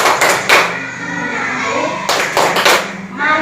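A school class performs the rhythmic PPK clapping chant, with bursts of many hands clapping and thumping in patterned groups, separated by short pauses.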